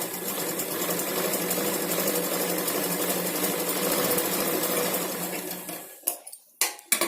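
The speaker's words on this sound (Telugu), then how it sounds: "స్ట్రైట్గా మనం ఫస్ట్ స్టిచ్ చేసుకోవాలి." A sewing machine runs a straight stitch through blouse cloth, humming in a steady, close, continuous whir for about six seconds before stopping, followed by a few brief clicks.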